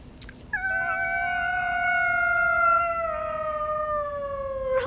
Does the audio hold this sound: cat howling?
yes